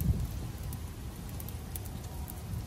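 Steady rain patters down in a continuous wash on a camping site with a tarp shelter, with a low rumble of wind underneath.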